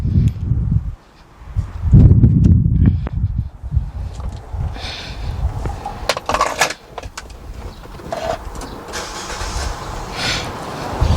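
A 2014 Nissan Juke with keyless remote and push-button start cranks and fires up nearby, a loud low burst of engine noise followed by a steady idle with some rustling and handling sounds.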